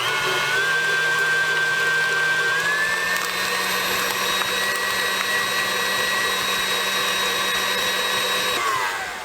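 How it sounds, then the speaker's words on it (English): A stand mixer creams peanut butter and cream cheese for a peanut butter pie, giving a steady, loud whirring motor hum with a high whine that runs unbroken throughout and shifts pitch slightly partway through. "I'm going to take the peanut butter and the cream cheese to the mixer and mix it up"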